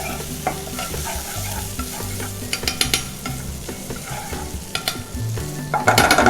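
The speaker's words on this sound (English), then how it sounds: "I'm frying it. So all the aroma would coming out from the paste." Thai green curry paste fries in a pan with a dense, continuous sizzle, close and steady, while a utensil stirs and scrapes through it with occasional sharper clicks.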